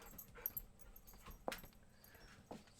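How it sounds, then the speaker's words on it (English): A dog whimpers and yips faintly in the background, with a few brief high whines spread across an otherwise quiet room. "So if you guys hear my dog in the back"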